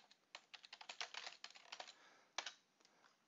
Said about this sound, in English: I can begin typing